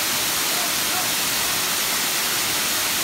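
Steady broadband rush of a waterfall in Bali, a constant even roar with no breaks, filling the whole moment at moderate level.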